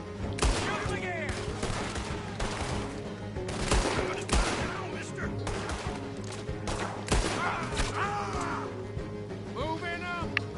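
Repeated gunfire in a Red Dead Redemption 2 shootout, sharp shots cracking at irregular intervals over a steady backdrop, with voices shouting and talking throughout.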